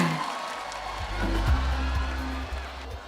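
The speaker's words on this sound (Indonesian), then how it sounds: "Beri tepuk tangan yang semangat." Audience applause at a public dialogue event, welcoming a moderator to the stage: dense, steady clapping mixed with crowd noise that holds at an even level for the whole stretch.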